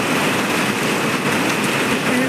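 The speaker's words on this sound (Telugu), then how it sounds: "చూడండి వర్షం ఎట్లా పడుతుందో" Heavy morning rain falls in Hyderabad, a loud, dense hiss of drops hammering surfaces close by, continuous for the whole moment with a faint low tonal hum underneath.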